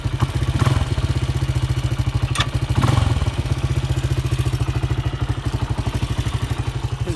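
A vintage 1983 Honda XR200 motorcycle engine runs close up on a cold, snowy day, putting out a fast, even thumping idle with a mechanical clatter and a couple of brief blips in revs.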